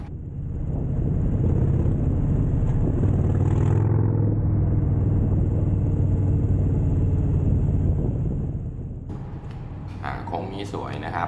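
Harley-Davidson motorcycle engine rumbling steadily while riding through a curve on a road trip, loud and continuous with a sustained low drone that eases off near the end as wind noise takes over.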